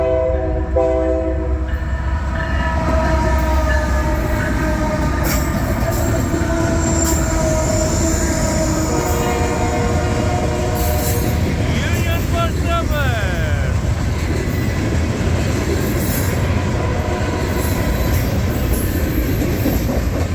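A Norfolk Southern freight train with dirty grain hopper cars rolls past southbound, a loud continuous close rumble of wheels and rattling cars with a brief horn near the start and screeching squeals midway.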